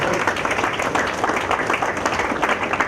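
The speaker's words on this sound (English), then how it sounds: "So special applause to Hindu, especially for making this particular concept" An audience claps at an intra-collegiate challenge event. The applause is dense and steady, with many hands together, and lasts about three seconds at a lively level with no clear speech over it.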